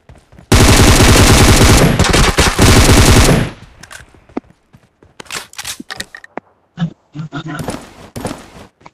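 Sustained rapid automatic gunfire from PUBG Mobile, loud and continuous for about three seconds, followed by scattered lighter shots and clicks.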